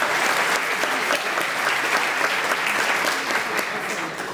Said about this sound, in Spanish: y un aplauso grande para este gran ser humano.